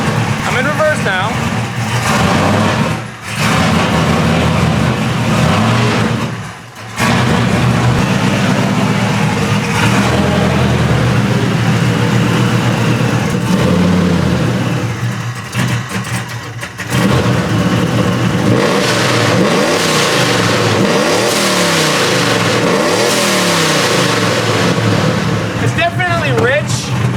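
Supercharged pickup truck engine idling and revving while in reverse, a loud close rumble with repeated throttle blips and brief dips, with people talking over it.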